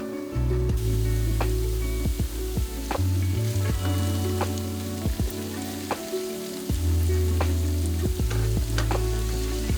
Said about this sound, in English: after about 3 minutes of cooking, both the ginger and the garlic, now I'm gonna add my shallots in